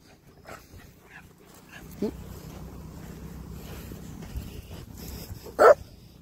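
Small dogs whimpering and giving short yips, with a sharp bark near the end and faint voices in the background.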